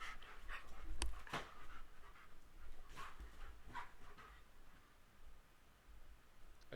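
Pet dogs indoors panting in quick, soft rhythmic huffs close by, with a few faint whimpers and sharp clicks scattered through, fairly quiet and with no talk.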